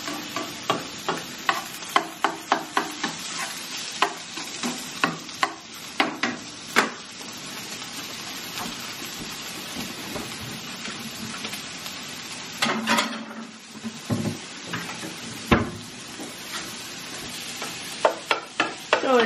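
Eggs scrambled in a frying pan, a spatula scraping and tapping the pan in repeated clacks over a steady sizzle, with busier clusters of stirring and brief pauses between.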